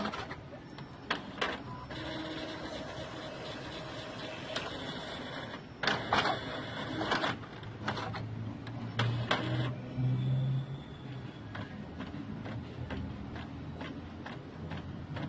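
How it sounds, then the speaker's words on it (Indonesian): An inkjet printer prints a mirrored image onto transfer paper, with steady mechanical whirring, rhythmic carriage passes and clicks of paper feed, fairly close and continuous throughout. "setelah diperintahkan print, printer sudah mulai mencetak dalam kondisi mirror."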